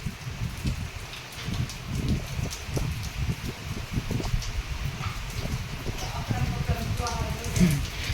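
Rain drips heavily from roof eaves close by, a dense, steady spatter of water falling onto a hard surface, with faint voices under it.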